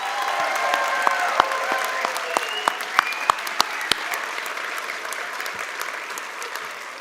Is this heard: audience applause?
yes